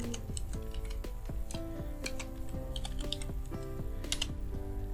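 Rapid typing on a computer keyboard, a steady patter of light key clicks with occasional louder taps, close and fairly quiet with no voice.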